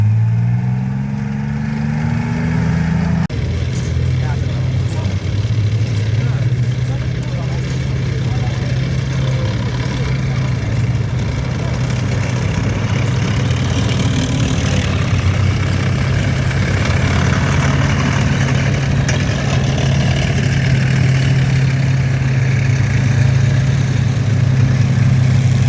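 A tank's twin diesel engines idle with a deep, steady low throb that holds unbroken throughout, loud and close, while people talk over it at an outdoor tank show.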